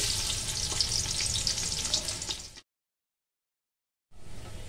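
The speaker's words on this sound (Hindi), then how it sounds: "प्याज ऐड करेंगे और उसे फ्राई कर लेंगे हाई फ्लेम पर" Onions frying in hot oil over a high flame, a loud, dense, crackling sizzle that runs steadily, cuts out to silence for over a second, then resumes.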